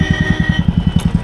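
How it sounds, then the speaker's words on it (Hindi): A Kawasaki Ninja 300 motorcycle engine idles close by at the start of a group ride, a steady, rapid, low rhythmic thrum that runs through the whole stretch. "ये गाड़ी है निंजा 300"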